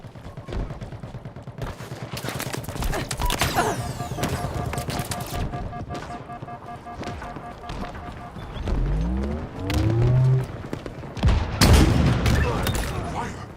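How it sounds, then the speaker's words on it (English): Halo Infinite multiplayer match with repeated gunfire bursts and several heavy explosions, sweeping whooshes and rumbling booms building toward the end, loud and dense, with announcer-style game voice lines mixed in. "Explosions!"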